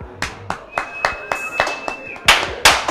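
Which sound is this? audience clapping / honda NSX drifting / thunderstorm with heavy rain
audience clapping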